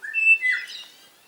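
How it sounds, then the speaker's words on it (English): Eastern rosellas give a short run of clear, whistled calls that rise and fall, loud and fairly close, then fade into quiet. "Eastern rosellas."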